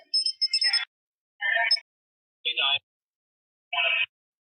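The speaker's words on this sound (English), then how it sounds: "the temperature gauge kept going off. So that's what you hear in the background, the little beeping" A temperature gauge beeps in short chirping bursts, four separated pulses with pauses between, fairly faint and with no talking over it.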